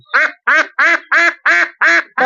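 A duck quacks loudly and close by, giving seven evenly spaced, harsh nasal quacks in a steady rhythm with short silent gaps between them and no other sounds.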